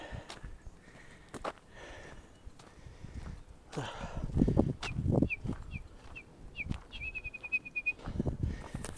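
A person whistles a series of short, high chirping notes imitating a wren call, ending in a quick trilled run, with footsteps and faint outdoor noise around in a canyon.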